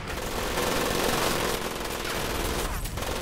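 Dense, continuous gunfire from the World War II shooter Medal of Honor: Pacific Assault, a loud, sustained fusillade of overlapping rifle and machine-gun shots with no break across the whole stretch.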